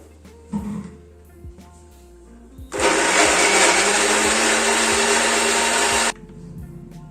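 A mixer grinder blitzes onion, garlic and green chilies into a paste: a loud, harsh whir runs steadily for about three seconds after a few faint clatters, then cuts off abruptly.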